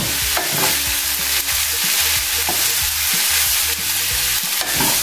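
Chicken breast sautéing in a pan for spring roll filling is stirred with a loud, steady frying hiss and regular scraping strokes of the utensil, close and dense, with no talk.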